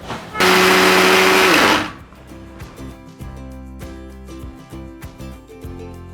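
A mixer grinder pulverising cut bread slices into breadcrumbs gives a loud, steady whirring burst of about one and a half seconds, then stops, leaving quieter tonal background sounds.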